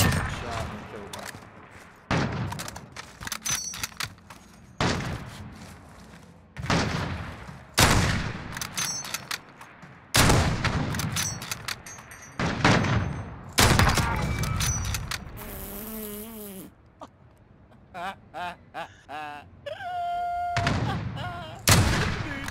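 Rapid gunfire bursts from a first-person shooter match, loud repeated volleys and single shots at close range with brief gaps, mixed with game effects and occasional talking between bursts.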